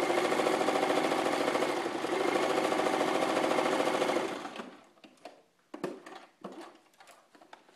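A sewing machine, jammed with thread, runs steadily for about four seconds, a rapid mechanical whir, then stops and gives a few short bursts with quiet pauses between.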